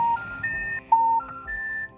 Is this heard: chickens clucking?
no